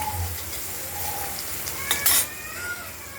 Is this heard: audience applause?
no